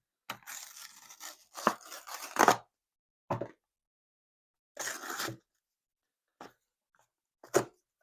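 Cardboard packaging of a Marie Callender's chicken pot pie being pulled and torn open: several close, rough ripping and crinkling bursts of varying length separated by silent pauses, with one short tear at the end.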